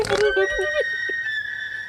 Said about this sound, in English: It sounds like the Willy Wonka whistle.